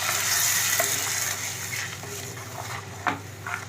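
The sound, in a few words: pouring dissolved mixture into sautéed onions, sizzling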